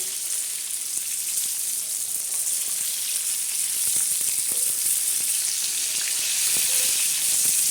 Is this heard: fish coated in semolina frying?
yes